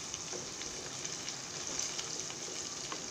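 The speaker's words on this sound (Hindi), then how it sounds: "अदरक लहसुन को अच्छे से फ्राई कर लीजिए" Ginger garlic paste fries in oil in a pan, giving a steady, close hiss of sizzling with small crackles and occasional stirring sounds, no voices.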